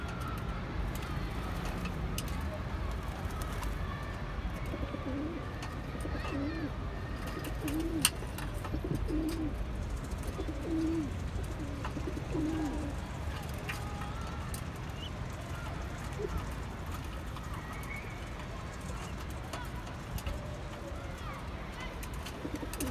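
Fancy pigeons of the Khenissi and Polo breeds cooing repeatedly in soft low calls against a steady background hum, fairly quiet and close.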